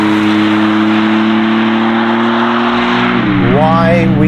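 Maserati MC20 fitted with a Novitec exhaust, a loud, close engine drone holding steady before climbing through rising revs near the end, continuous and alone with no talk.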